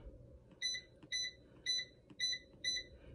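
An air fryer beeps five times in an even rhythm as its cooking setting is selected, each short bright double chirp close and clear over a low background hum, with no talking.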